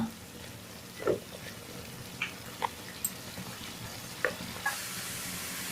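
A pan of tomato masala for mushroom masala simmers quietly, with soft bubbling and occasional pops and stirring taps over a low kitchen background.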